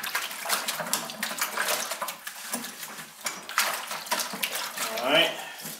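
Water poured from a jug into a glaze sieve in a pottery workshop, a steady close splashing and trickling stream that swells and fades, with a brief gurgle near the end.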